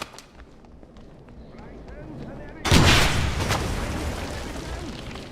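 A scoped Kar 98 sniper rifle firing in a Wolfenstein video game: one sharp, loud crack out of quieter background noise, followed by a lingering rumbling echo that slowly fades.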